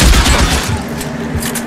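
Gunfire in LA Noire Remastered: a dense burst of shots with heavy low booms, continuous and loud across the whole stretch, no voice over it.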